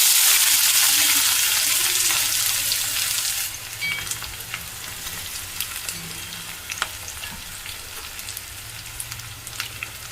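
Onions and green chilies hit a pan of hot oil with a loud burst of sizzling that settles after a few seconds into steady, quieter frying crackle with scattered pops and occasional stirring.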